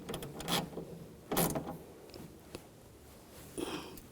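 Battery terminal bolt on a 2007-2013 BMW 328i being snugged down with a hand tool, giving a few short metallic ratcheting clicks and scrapes in bursts, close and fairly quiet, with no talk.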